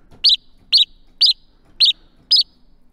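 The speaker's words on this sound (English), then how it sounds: "there we have a fairly realistic house sparrow sound" A synthesized house sparrow chirp repeats five times at an even pace, each one short, bright and clean against near silence.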